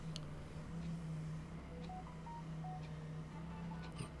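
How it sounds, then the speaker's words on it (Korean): A phone goes off during cramped forklift work moving pallets, a short series of electronic tones over a steady low engine hum from the forklift. "또 이렇게 중요한 순간에 꼭 전화가 오죠."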